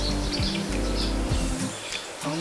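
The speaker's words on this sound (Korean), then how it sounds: "새소리." Birds chirp and sing on a forested mountainside in the countryside, short tweets scattered over a steady low rumble, fairly close and clear.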